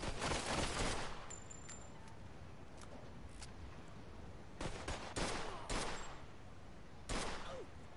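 Gunfire in Mafia 2, a few sharp bursts and separate shots spaced irregularly, loud against a quieter background, with no voices heard.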